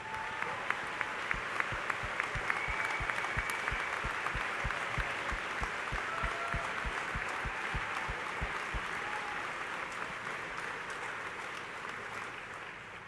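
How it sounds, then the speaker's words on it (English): Commencement audience applause for teachers at a spring graduation ceremony: a large crowd claps steadily and fairly evenly throughout, a dense wash of hands with a few sharper nearby claps, slowly tapering at the close. "We need to give you a huge round of applause for what you do."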